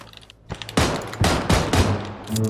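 Gunfire in the PUBG Battlegrounds video game, several loud, close bursts of rapid shots separated by short gaps, ringing out alone without talk.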